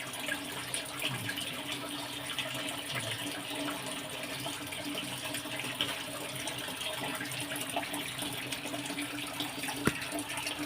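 Tap water runs steadily while ginger leaves are washed under it. The flow is soft and faint, a quiet continuous gush with small splashes.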